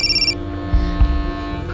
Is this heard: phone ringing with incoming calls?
yes